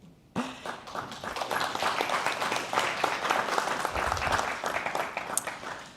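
Applause fills the room at a guide dog graduation, a steady, fairly distant crowd clapping that starts abruptly and carries on for several seconds with scattered taps and thuds.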